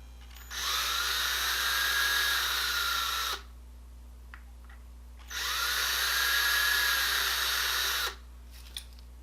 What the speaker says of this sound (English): I think I want to start with drilling out the rivet here.